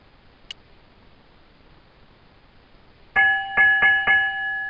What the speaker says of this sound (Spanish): Dos campanadas y sin novedad.